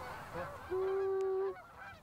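Geese honk during a Michigan goose hunt: one long, clear, loud call holds steady for nearly a second, framed by softer overlapping honks from the flock nearby.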